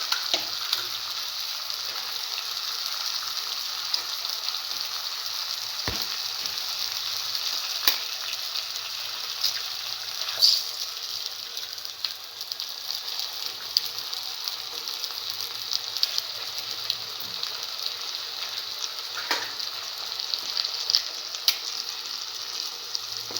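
Beaten eggs with tomato sizzle steadily in a hot pan during a stir-fry, with a continuous bright hiss and occasional light scrapes and clicks throughout.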